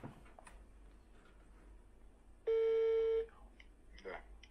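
A telephone dial or call tone sounds once as a steady electronic tone lasting under a second, louder than the surrounding quiet room noise and faint speech, while a call is placed about a Volkswagen Passat B4.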